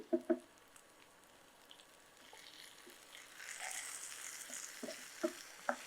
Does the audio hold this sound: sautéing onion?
yes